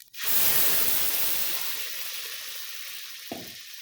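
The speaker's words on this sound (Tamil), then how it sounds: "அது நல்லா வதங்குற வரைக்கும் நல்லா கிண்டி விடுங்க." Ground curry leaf paste hits hot oil with fenugreek and chana dal, bursting into a loud hiss that slowly settles into a steady, softer sizzle, with one brief stirring clink near the end.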